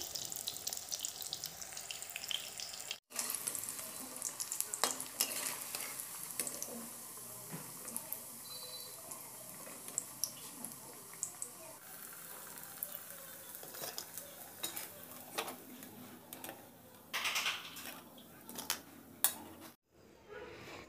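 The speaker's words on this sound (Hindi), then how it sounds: "यहाँ पर जमीकन के जो पीस हैं उनको हमने अच्छे से तल लिया है" Crackling, sizzling oil from yam pieces frying in a pan, with scattered pops and clatters, fairly quiet and continuous throughout.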